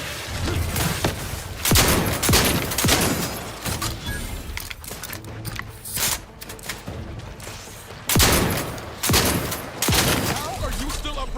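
Rapid bursts of gunfire from a firefight in the video game The Outer Worlds 2, with close, loud volleys and shots repeating in clusters over a busy layer of combat effects.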